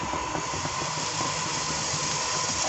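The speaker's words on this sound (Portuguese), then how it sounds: "já deixei aqui, ó, no foguinho baixo aqui, fritando" Chopped fresh herbs (parsley and green onion) sizzle in a pan over low heat while a country-style lunch is cooked, a steady soft hiss with faint crackles, no voices.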